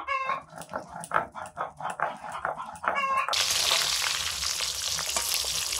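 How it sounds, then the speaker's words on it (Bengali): Potatoes for chicken curry drop into hot oil and fry, a sudden loud hissing sizzle that stays steady and close, following a stretch of animal-like yelping sounds. "মাংসের আলুটা ভেজে নিচ্ছি।"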